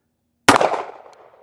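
A single sharp shot from a Smith & Wesson Bodyguard 2.0 .380 ACP pistol firing 90-grain Hornady Critical Defense ammunition, loud and close after a silent lead-in, followed by a ringing decay and echo.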